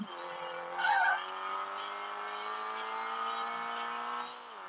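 A car engine revs in a racing video game, a steady climbing whine with layered harmonics and a brief tire squeal near the start, ending as the revs drop.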